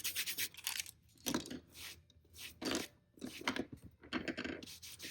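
A tool scrapes dried watercolour paint from textured paper in a series of rough, close, raspy strokes, with short pauses between bursts and no talking.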